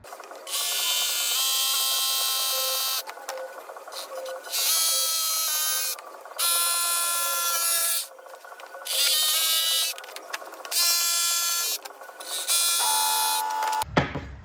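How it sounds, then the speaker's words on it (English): A jigsaw cutting wood straight lines for a router jig buzzes in repeated bursts, each lasting a second or two, separated by short pauses, loud and close. "I can cut these straight lines with my jigsaw"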